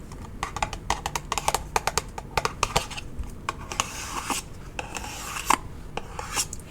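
Crisp scratching and tapping on a cardboard perfume box for a 50 ml Noir fragrance, close and quiet, with rapid irregular rasps and clicks, brief pauses, and no talking.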